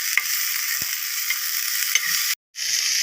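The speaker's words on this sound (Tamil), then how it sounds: "மீடியம் ஃப்ளேமில் வச்சு பீக்கர் வாங்கிட்டு ஒரு மூணு நிமிஷம் நல்லா வதக்கணும்" Chopped ridge gourd sautéing over a medium flame for peerkangai chutney, a loud steady hiss of frying with faint stirring knocks, briefly cutting out near the end before the sizzle resumes.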